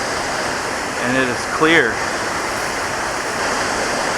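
A slow, clear river flows with a steady, full wash of water noise close by, while a voice speaks briefly over it.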